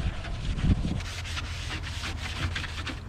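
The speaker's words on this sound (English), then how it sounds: "Let's see how the old box does just with a little hand scrubbing." A hand rubs back and forth across the roof of an old 1981 Ford Courier mini truck in quick, repeated strokes, giving a close, rough scrubbing sound.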